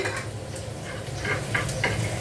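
Jute leaves (pat shak) fry in a pan, giving a steady close sizzle broken by soft repeated stirring scrapes, with no talking.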